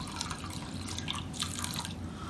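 Running water pours steadily into a bowl holding one cup of rice being soaked for Egyptian koshary, a continuous splashing, trickling flow with no talking.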